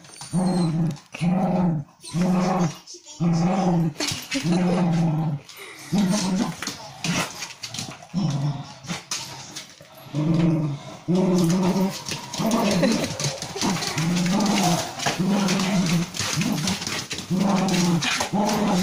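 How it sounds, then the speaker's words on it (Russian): An angry dog growls close and loud in repeated rhythmic bursts of throaty rumbling, separated by short pauses and mixed with occasional whimpering yips. "Ну какой злой пес."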